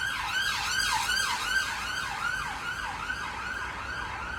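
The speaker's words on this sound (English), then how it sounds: "Let this ambulance go past." An ambulance siren passes nearby, its rising and falling wail repeating steadily in a fast cycle over faint road traffic, with no one talking.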